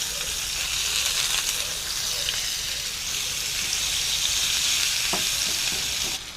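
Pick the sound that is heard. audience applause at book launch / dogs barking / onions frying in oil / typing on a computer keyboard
onions frying in oil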